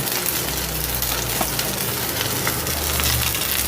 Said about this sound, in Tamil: இப்போ இதை நல்லெண்ணெயில் நம்ம நல்லா வதக்கி எடுத்துக்கலாம்.